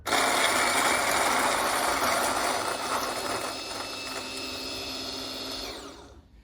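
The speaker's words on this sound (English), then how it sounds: "here's the TimeMore grinder set up at the same location, and I'll grind a few beans" TimeMore coffee grinder crunching a few coffee beans: a steady, close gritty whirring that slowly eases in intensity, then cuts off near the end, with no voices.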